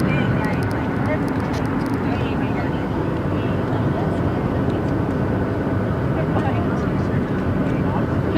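Steady, loud engine roar inside an airplane cabin during landing at Reno, Nevada, a continuous broadband drone throughout.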